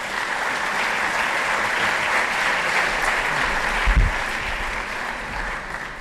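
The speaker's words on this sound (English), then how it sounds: "A big applause for Schengen Fan." Steady, dense applause from a conference audience, loud and sustained throughout after a speaker is introduced at an agricultural research gathering, with no talking over it.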